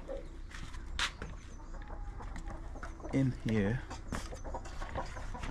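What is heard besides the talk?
chickens and rooster clucking in a coop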